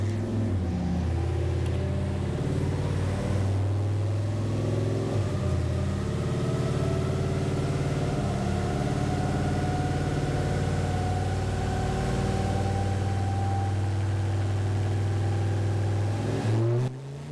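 Turbocharged LS engine in a rat rod running on a dyno, a loud sustained low drone with steady harmonic rumble throughout, cutting off near the end.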